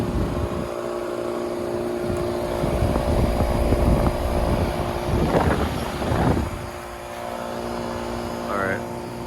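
A 2002 York Olympian two-ton air conditioner runs with a steady low hum and whirring fan, loud and close, with talking over it and some wind buffeting.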